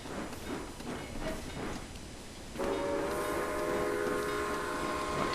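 Trains running in the Railway Empire game: a rumbling rail sound that shifts partway through into a loud, sustained train horn, with no talking.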